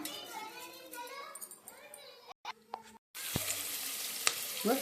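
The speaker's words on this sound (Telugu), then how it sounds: "ఇక ఇప్పుడు తాలింపు గింజలు వేసుకుందాం" Tempering seeds hit hot oil in a cooker for a goat head curry and start a loud, crackling sizzle, preceded by talking and some clatter.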